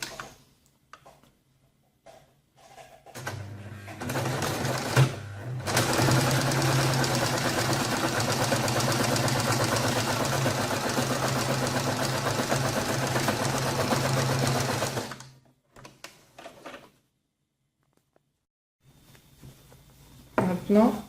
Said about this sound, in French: après avoir épinglé le bas de la doublure, on va le coudre.